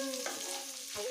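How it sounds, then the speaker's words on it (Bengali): Square-cut capsicum and slit green chillies fry lightly in a pan, a quiet sizzle with stirring scrapes heard close and low, steady throughout with no talking. "ভালো করে ভেজে নেব।"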